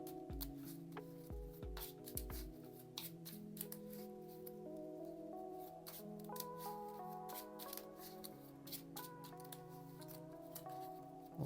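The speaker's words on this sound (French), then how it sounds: "on a mélangé le deck en rencontre" A deck of Marvel Champions encounter cards being shuffled up close, a run of riffles and crisp rapid flicks repeating steadily without pause, no one speaking.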